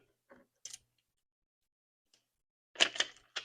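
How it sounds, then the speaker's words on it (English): Scissors snip excess material off a piece during a Cricut fall craft project, a few short crisp cuts close by, first two isolated and then a quicker cluster near the end. "I'm going to cut a little of this excess"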